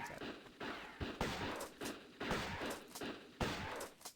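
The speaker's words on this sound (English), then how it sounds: "3 shots with the shotgun is all it takes" Three booming shotgun blasts from the 1996 video game Tomb Raider, fired in quick succession with short pauses between, loud and punchy with thudding echoes, no voices.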